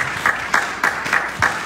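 A church congregation claps in a rhythmic, regular beat, fairly close and loud, about six claps spread across the moment.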